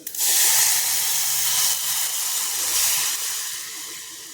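Buttermilk for Maharashtrian kadhi hits a hot pan with a loud, broad sizzle that flares at once, holds steady for a few seconds, then slowly softens; no voice is heard.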